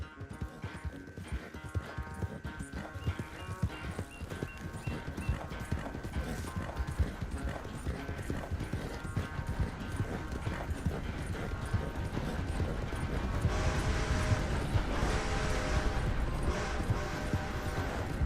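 Rhythmic clip-clop of horse hooves at a steady trot in Red Dead Redemption 2, with faint mechanical clicks, growing slightly louder toward the end; no speech.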